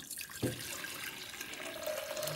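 Liquid poured into a vessel in a home kitchen while making mix dosa batter, a soft steady trickling stream that starts with a faint splash and continues quietly.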